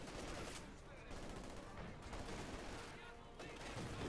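Flak panzer gunfire in Company of Heroes 2 tearing through conscripts: dense, continuous rapid bursts of automatic fire with battle din, loud and sustained across the whole stretch.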